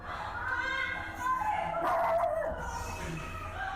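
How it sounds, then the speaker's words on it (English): A dog barks and whimpers in a few short bursts of yips and howl-like cries, fairly close, with voices talking over it. "The dog barking."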